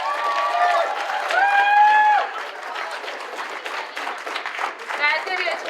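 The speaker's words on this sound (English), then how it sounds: "Applaud that poet." Audience applause for a poet at a regional poetry slam in Northampton, a dense wash of clapping with some cheering from the crowd, and a host's voice talking over it.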